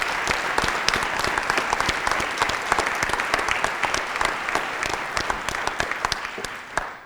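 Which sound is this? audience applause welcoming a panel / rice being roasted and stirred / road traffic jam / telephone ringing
audience applause welcoming a panel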